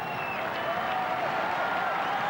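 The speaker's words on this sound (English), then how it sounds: "Listen to the reaction of the crowd" Crowd at the 1998 US Open tennis semifinal between Philippoussis and Moya roars and applauds after a point, a steady dense wash of cheering and clapping with whistles and shouts rising over it.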